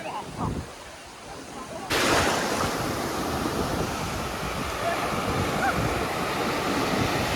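Fast-moving sea waves roar continuously at Shrivardhan beach, a loud broadband wash that swells sharply after a quieter opening moment and stays dense and close to the end.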